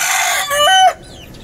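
A farm rooster crows loudly and close by in a single strained call that breaks off abruptly, with no talk over it and only quiet background afterward.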